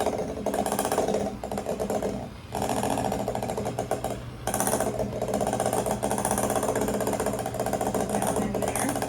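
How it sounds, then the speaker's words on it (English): An electric hand mixer whirs continuously while whipping boiled potatoes, a loud close buzzing drone that dips briefly twice as the beaters shift in the bowl. "you're going to use an electric hand mixer, and you're going to start kind of whipping them up a little bit"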